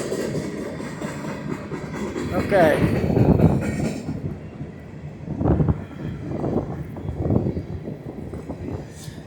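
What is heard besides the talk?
long freight train passing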